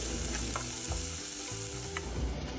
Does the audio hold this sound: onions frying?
yes